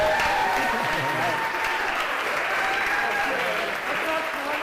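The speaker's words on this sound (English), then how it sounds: "can we please have a big cheer?" Audience cheering and applauding for the winner of the male masters final, a steady wash of clapping and shouts throughout, loud and continuous.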